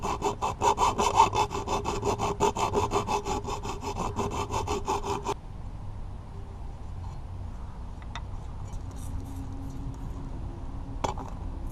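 Rough, rapid rasping strokes deburr the cut edges of turbo intercooler piping, loud and rhythmic for about five seconds before stopping, followed by quieter workshop background with a couple of faint knocks.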